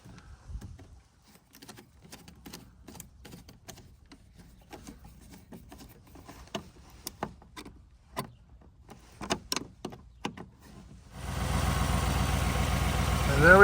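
A Chevy Tahoe engine, freshly fitted with a new serpentine belt and now running without its squeak, starts after a stretch of quiet clicks and taps. It then settles into a loud, steady, close idle that continues to the end.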